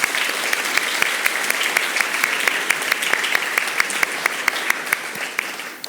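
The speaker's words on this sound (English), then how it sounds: "I would just love to give all these folks a big round of applause right now" A live audience at a true-crime podcast taping gives the festival volunteers a round of applause, with many sharp individual claps standing out over a steady wash of hand-clapping that holds strong, then thins slightly at the end.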